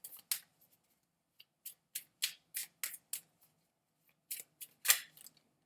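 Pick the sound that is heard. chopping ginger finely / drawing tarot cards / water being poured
drawing tarot cards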